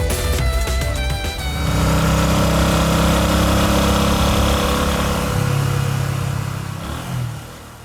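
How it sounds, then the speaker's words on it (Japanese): A motorcycle engine runs steadily throughout, a loud close-up drone with a few throttle swells that eases off toward the end. "バイクの音？"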